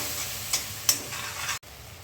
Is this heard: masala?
yes